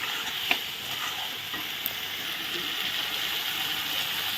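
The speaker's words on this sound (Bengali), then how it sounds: "সয়াবিনটা দিয়ে একটু নেড়ে চেড়ে কষিয়ে নেব" Soybeans being stirred and fried in a pan make a continuous sizzle broken by scraping strokes and a couple of sharp utensil taps, with no voices.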